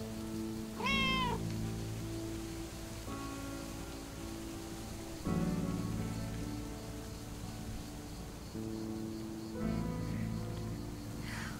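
A cat in the Lake video game meows three separate times, each a clear, close cry a few seconds apart, over a soft, steady rain-like ambience with no talking.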